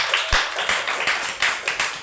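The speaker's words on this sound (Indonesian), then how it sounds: "coba tepuk tangannya dulu semuanya" A group of schoolchildren in a classroom clapping hands together in a quick, fairly regular rhythm, with a sharp thump near the start.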